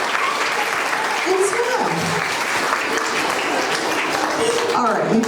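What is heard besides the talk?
audience applause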